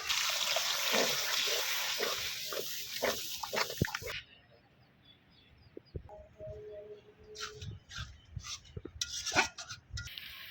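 Water goes into frying spice paste for a country chicken and potato curry, giving a loud rushing hiss for about four seconds, then quieter bubbling with scattered clatters of utensils.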